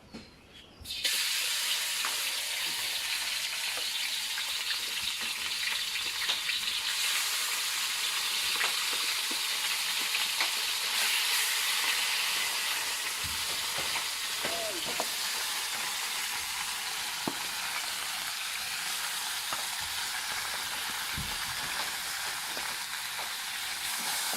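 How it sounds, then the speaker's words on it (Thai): Pork ribs fry in a hot iron wok with a steady, loud, close sizzle of bubbling oil that holds evenly throughout, with faint occasional clinks. "พอมันร้อนๆหน่อยละลงทอดลงฉาบ"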